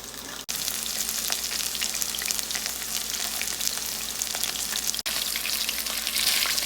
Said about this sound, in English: We're coming right along on our chicken, frying it in batches